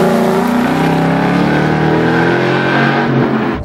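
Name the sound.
sports car engine and exhaust at speed on race track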